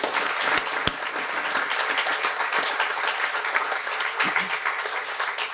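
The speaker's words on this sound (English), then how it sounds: "let's have a round of applause for the Buckleys" A graduation audience for a guide dog school gives dense, sustained applause for donors. The clapping stays steady and full throughout, with faint voices mixed in.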